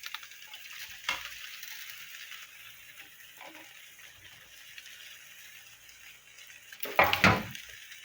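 Pancit bihon rice noodles with vegetables stir-fried in a pan, a soft steady sizzle with occasional scraping and a louder clatter of utensil toward the end, no talking.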